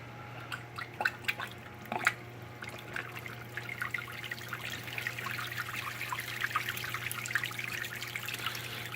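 Water from a return pump pours into a 60-cube reef aquarium with a continuous trickling, splashing flow over a steady low pump hum, close and moderately quiet, with a few sharper drips early on.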